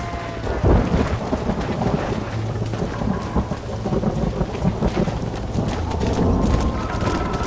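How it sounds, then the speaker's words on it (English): Thunderstorm in the Red Dead Redemption western video game: steady heavy rain with rolling thunder booming and rumbling throughout, mixed with horse hooves clopping nearby, no talk. "The storm's getting worse."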